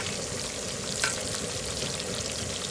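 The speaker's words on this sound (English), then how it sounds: "Slide some of these fries right up there like that and fry these up" French fries frying on a Southwest Disk cowboy wok, a steady loud crackling sizzle throughout with one brief sharper clatter midway, no voices.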